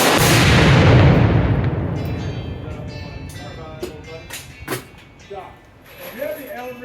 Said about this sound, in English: 6 shots. Yeah, nice revolver.